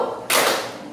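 One sharp, loud burst of group hand clapping from students in a classroom ice-breaking game, rising suddenly out of quiet room tone and fading over about half a second.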